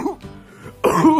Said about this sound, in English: they did not talk, they cough, man.